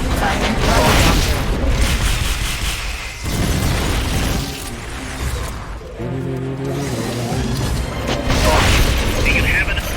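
Rocket launcher fire in a Metal Gear Solid game, with heavy booming blasts and mechanical clatter in loud repeated bursts, mixed with game sound effects and voices speaking over the action.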